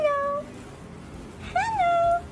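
A cat meows in a shower stall, two clear, drawn-out calls separated by a short pause, close and resonant, with no talk over them.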